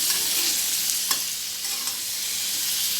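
Pork frying in a shallow film of oil in a pan, giving a steady, loud, continuous sizzle with a few brief crackles and pops throughout.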